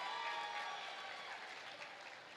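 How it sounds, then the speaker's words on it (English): An audience at a goat showmanship class claps in a steady, even round of applause that sounds fairly faint and distant and carries on throughout. "Let's give her a nice round of applause for coming out here and showing this one off to us."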